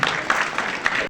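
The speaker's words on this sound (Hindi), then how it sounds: "जो लोग मंच पे आते हैं प्लीज उनके लिए ताली आप जोर बजाते रहिएगा" An audience at an award ceremony applauds as people come onto the stage, a short burst of dense, moderately loud clapping with a few sharper peaks.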